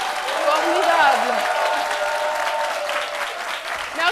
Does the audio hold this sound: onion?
no